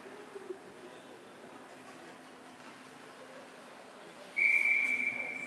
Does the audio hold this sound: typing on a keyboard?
no